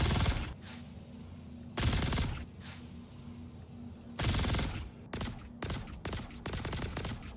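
Custodian SMG gunfire in the Star Citizen video game, rapid automatic bursts separated by short pauses, followed by several quick separate shots, loud and close with no talking.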